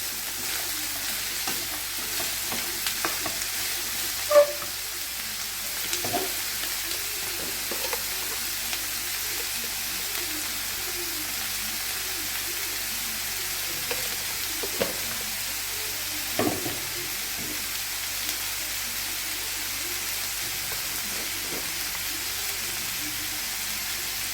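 Sliced bitter gourd fries on high flame in a pan, a steady close sizzle and hiss throughout, with occasional scraping and clicking stirs of the utensil against the pan.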